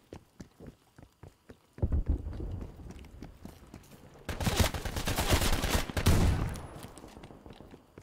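Submachine gun fire in the video game Call of Duty Black Ops Cold War, with sharp single shots early on, then loud sustained bursts of automatic gunfire close up and no talk.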